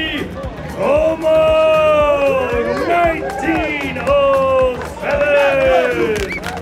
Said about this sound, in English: You hear their fans cheering them on